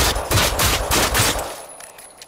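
Rapid shotgun blasts in the video game Generation Zero, about six heavy booming shots fired in quick succession over a second and a half, then fading into quiet.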